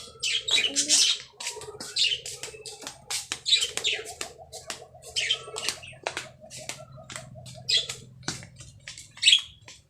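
Birds chirp and tweet in a highland setting, a busy cluster of short, sharp calls close by, repeating irregularly over a faint background hum.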